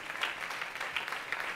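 Audience at a theatre anniversary event applauding three honorees: a brief, steady burst of many hands clapping, moderately distant.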